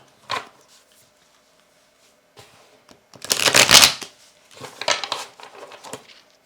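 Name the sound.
shuffling tarot cards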